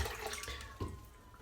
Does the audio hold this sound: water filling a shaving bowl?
yes